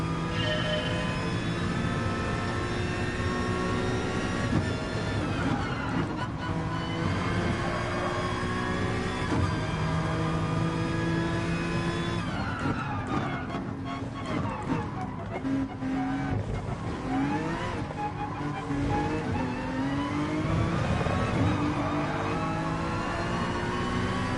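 Race car engines in the GT Sport video game during a GT3-class race at Suzuka, with a continuous droning, revving engine whine that shifts pitch as cars accelerate and pass, mixed with game audio and no clear speech.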